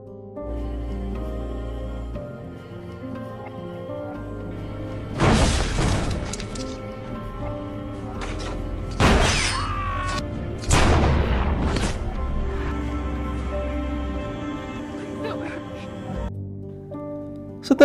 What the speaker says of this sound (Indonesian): terjadilah baku tembak antar Trevor dan si killer